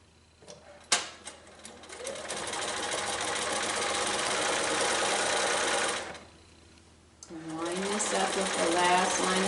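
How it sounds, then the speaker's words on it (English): A sewing machine stitching fusible quilt binding runs in two loud sustained bursts of rapid mechanical whirring, separated by a brief pause, with a sharp click at the start. "I'm not going to stitch all the way out to the edge because I don't want those threads to show."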